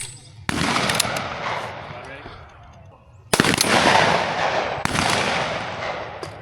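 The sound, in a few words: Browning Auto-5 shotgun firing at trap range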